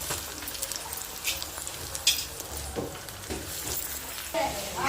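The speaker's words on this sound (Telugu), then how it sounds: "అల్లం వెల్లుల్లి పేస్ట్ కూడా బాగా వేగింది కదా, టమాటాలు వేసేసుకున్నాం" Tomatoes fry with ginger garlic paste in a pan, a crackling sizzle broken by repeated scraping stirs and light clanks of a spoon, close and fairly loud, with no voices.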